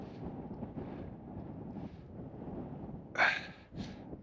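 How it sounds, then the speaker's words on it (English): Gusty wind rumbles steadily across the microphone at a quarry, with a couple of sharp bursts of noise near the end. "that is so windy."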